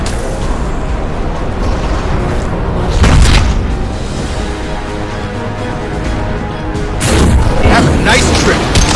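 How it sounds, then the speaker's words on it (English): An Impact Shot ability blast in Mass Effect 2 lands as two heavy booms about four seconds apart, each a loud thumping burst over a busy backdrop of game combat noise. "Impact shot!"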